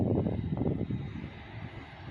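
An airliner's jet engines roar at takeoff at an airport, a loud, steady low rumble that is strongest at first and slowly fades as the aircraft pulls away.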